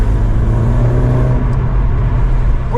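A car fitted with an Alibaba valved exhaust rumbles loudly at close range, a steady deep drone with a slight rise in revs.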